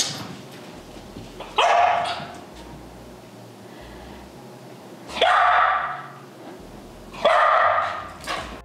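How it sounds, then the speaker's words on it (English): A dog barks three times, loud and close, with quiet pauses between each bark. "she starts to bark at it."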